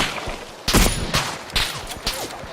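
Gunfire in the battle royale game PUBG sounds as a few sharp, loud shots spaced roughly half a second apart, each followed by a short echo, with no speech over them.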